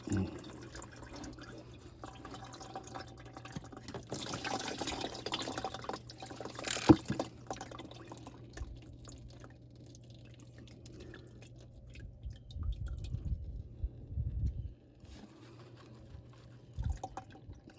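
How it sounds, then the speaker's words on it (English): Motor oil drains from a Toyota Camry, trickling and dripping quietly in an intermittent stream, with occasional louder splashes and a faint hum in the background. "you're gonna have some oil drains out of it."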